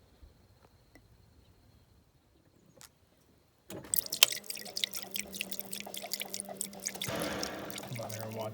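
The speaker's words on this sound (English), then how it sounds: "fill this up with fluid and drain it out again" Fluid drains from a 7.3 diesel engine part, starting suddenly after a quiet stretch with a few faint drips, then turning into a steady close trickle and splash that swells louder near the end.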